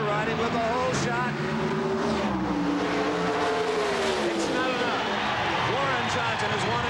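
NHRA drag racing cars launch and roar down the strip at the 1991 Motorcraft Gatornationals, a loud sustained engine howl shifting in pitch, with a commentator talking excitedly over it.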